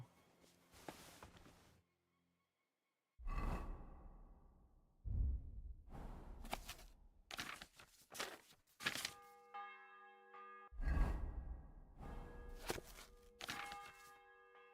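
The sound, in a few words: church bell ringing in a video game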